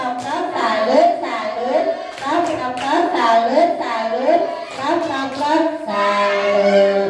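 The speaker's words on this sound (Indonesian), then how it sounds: "Tepuk tangan dulu dong untuk ibu ini." An audience at a school teachers' training event in Pagar Alam claps rhythmically, with voices chanting along over the beat throughout.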